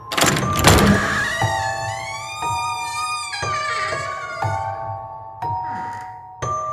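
Old iron prison door bound with chains creaks open in a horror scene, a long metallic groaning screech with ringing clanks and a heavy thud near the end, loud and close with no talking.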